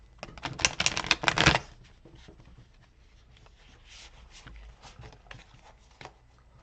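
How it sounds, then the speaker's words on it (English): Tarot cards riffled and shuffled up close in a quick dense burst, followed by softer scattered handling, taps and rustles of the deck. "we're going to get some tarot cards out for you"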